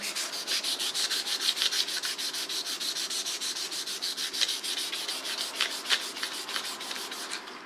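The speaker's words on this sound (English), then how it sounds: "I'll finish that up now with the finer sandpaper" Fine sandpaper rasps back and forth on the wooden handle of a Damascus sashimi knife in quick, steady, rhythmic strokes, close and clear with no talking.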